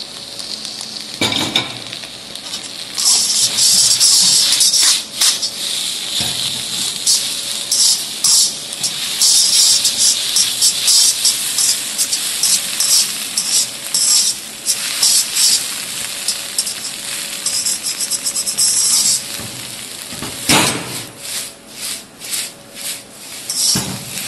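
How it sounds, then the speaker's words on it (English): Bok choy, bamboo shoot, colored capsicum and spring onion whites sauté in a hot pan, a loud continuous sizzle with tossing and stirring noises that rise and dip throughout. "Once the vegetables are sauteed, add in the egg noodles."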